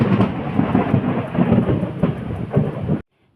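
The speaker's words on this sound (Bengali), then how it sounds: "আর এইদিকে আকাশটি এত ডাকাডাকি করছে, এত বিদ্যুৎ চমকাচ্ছে" Loud thunder rolls and rumbles through a storm with rain for about three seconds, with no talk over it, and then it cuts off abruptly.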